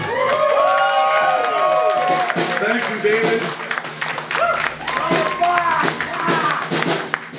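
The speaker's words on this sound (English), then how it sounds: "Can we have a round of applause?" An audience at the Hollywood Star Room club claps and cheers in a loud, dense wash that swells and ebbs for several seconds, while someone speaks over the noise.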